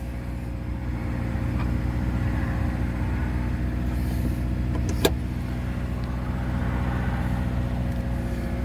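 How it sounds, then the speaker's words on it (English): A 2014 Subaru Outback with the 2.5 engine runs steadily just after start-up, a constant low hum and drone with one brief sharp click partway through, and no talking over it. "Okay, and let's see how the engine sounds."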